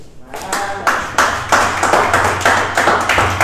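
A congregation claps in acclamation during a joyful church sermon, a dense burst of many hands striking in quick bursts that swell several times over a few seconds, loud and close, with no talking.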